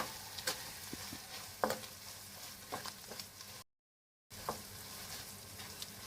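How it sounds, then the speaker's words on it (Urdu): Squash with red chili and salt fries quietly in a pan, a faint steady sizzle with a few stirring scrapes, broken by a short gap of total silence. "اس کو تھوڑا فرائی کر لیں گے۔"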